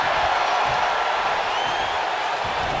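An arena crowd at a WWE 2K19 tag team match keeps up a continuous roar of cheering and whoops, with commentary voices faintly underneath.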